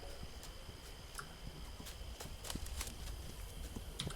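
Horse hooves clip-clopping in the survival game This Land is My Land, a faint, steady rhythm of hoofbeats drawing closer over quiet background ambience, with no talking.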